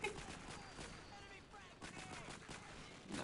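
Gunfire in Call of Duty 4: Modern Warfare, a battle scene with a helicopter, as repeated sharp pistol and rifle shots crack through dense game noise and layered effects, with players talking over the action.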